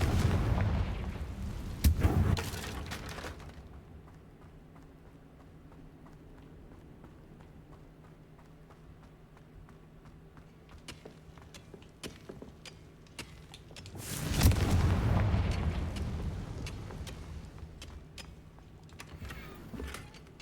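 Fiery blasts from the Confringo spell in the Hogwarts Legacy video game: a loud burst at the start, a quieter stretch, then a second big roaring blast midway that fades out.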